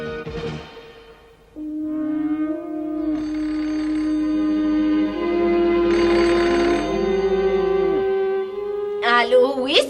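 A cartoon telephone rings in warbling, tonal bursts, loud and close, with squeaky and whooshing effects around it.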